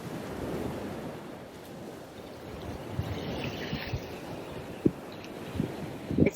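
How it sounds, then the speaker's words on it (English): Ocean waves wash against the shore at low tide beside a large rock, a steady rumbling surf with wind buffeting the microphone and a few sharp splashes or knocks near the end. "standing next to a very large rock in the ocean."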